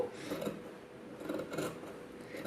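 Scissors trimming fabric close to a freshly stitched seam, giving a few soft, near snipping and rasping cuts in short bursts, moderately quiet with no talk.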